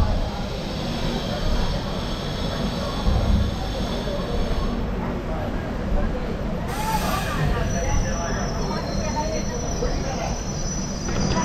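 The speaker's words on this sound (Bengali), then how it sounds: "আমাদের এই ট্রেন হলদিবাড়ি স্টেশন থেকে ছেড়ে দিল।" Local passenger train 55752 pulling out of Haldibari station toward New Jalpaiguri, heard from on board: a continuous low rumble of rolling wagons with a brief high wheel squeal midway, and voices in the background.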